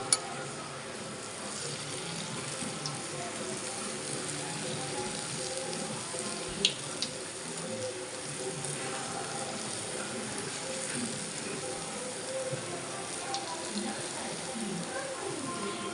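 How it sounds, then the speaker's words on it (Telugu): Garelu, Telugu lentil vadas, frying in hot oil for Ugadi give a steady, dense crackling sizzle that holds at an even level throughout, broken by a few sharp clicks. "ఆయిల్ కూడా వేడెక్కేసింది. గారె తీసి దాంట్లో వేసేసుకుంటాను."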